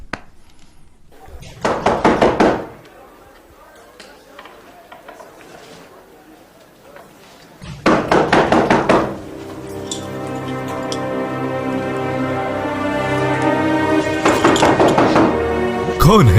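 Knocking on a door in a historical drama series, with two or three bursts of rapid, close knocks separated by quieter stretches, and a sustained musical score swelling underneath in the second half.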